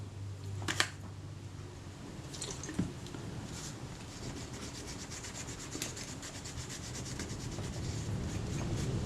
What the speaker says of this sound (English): I'll wipe this down with a bit of naphtha.